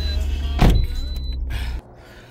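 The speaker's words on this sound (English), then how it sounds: "So I gotta test drive the car." A 2006 Toyota RAV4 sits with a steady engine hum and a brief rushing swell before the sound cuts to a quieter rumble, close by and without talk.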